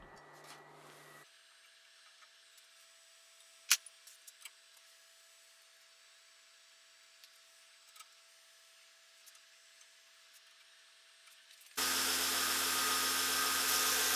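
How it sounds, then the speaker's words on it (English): A belt grinder fitted with a narrow, ripped-down 1-inch platen grinds a khopesh sword. Mostly near-silence with a faint hum and a few small knocks, then the machine bursts into loud, steady, broad grinding for the last couple of seconds. "the narrower platen with like a ripped down inch wide belt is going to really let me grind that kind of weird tight area"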